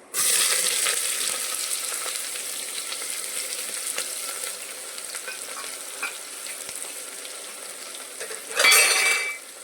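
Onions frying in oil with cloves, cardamom and cinnamon for a mutton curry, a steady close sizzle under occasional stirring scrapes, with a brief louder burst near the end.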